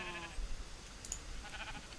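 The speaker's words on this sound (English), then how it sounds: "Not a cow, it's a sheep anyway." A faint, brief sheep bleat from the Minecraft FTB modpack sounds at the start, followed by soft game noises and a quiet background.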